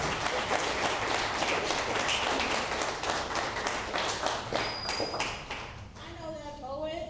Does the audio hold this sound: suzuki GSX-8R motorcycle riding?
no